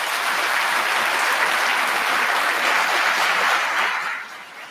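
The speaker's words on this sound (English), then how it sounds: "So give them a round of applause, please." Loud, sustained applause from a graduation ceremony crowd fills the room evenly for several seconds, then tapers off near the end.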